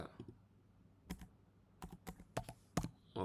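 Computer keyboard typing while filling in an online application form, a series of sharp separate key clicks coming in small irregular bursts with short gaps, close and fairly quiet.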